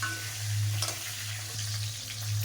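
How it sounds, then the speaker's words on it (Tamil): Eggplant sautés in oil in a pan, giving a steady close sizzle with a low hum and a brief stirring scrape partway through. "இப்போ கத்திரிக்காய் வதங்கிச்சு"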